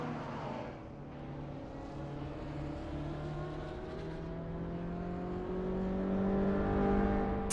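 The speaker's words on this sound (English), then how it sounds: "race is kicking off at Weatherfield Speedway with the blind random car class" Video game race cars, a blind random car class with a 2013 Caterham on pole, launching at Weatherfield Speedway; several engines drone and rise in pitch together as the pack accelerates, growing louder toward the end.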